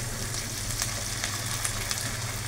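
Chilli chicken sizzles loudly in a hot pan as tomato sauce is added, a dense close-up frying hiss with small pops and stirring clicks.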